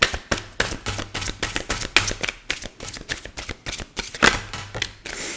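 Tarot cards being shuffled by hand in quick, crisp riffling bursts, a rapid run of papery slaps and flutters close up, with almost no talk.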